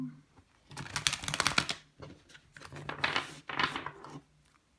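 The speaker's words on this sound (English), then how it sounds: "Let's give this a good shuffle." Quick riffling bursts of tarot cards being shuffled, several crisp rapid flurries separated by short gaps, close and fairly loud.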